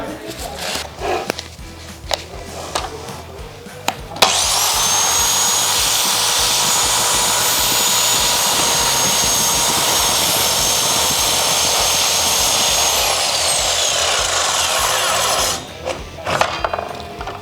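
An Excel 216mm (8.5-inch) mitre saw whines up loudly and cuts through wood, a steady high-pitched roar lasting about eleven seconds before spinning down, with handling clatter and knocks just before and after.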